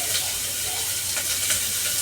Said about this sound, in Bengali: উপর থেকে দিয়ে দিলাম পেঁয়াজ, রসুন, আদা একসাথে।